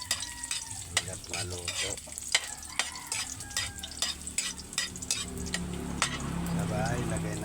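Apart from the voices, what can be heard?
stirring food while it fries in a pan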